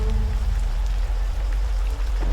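Dense, heavy rain pours steadily and loudly, a continuous close wash of drops with no voices over it.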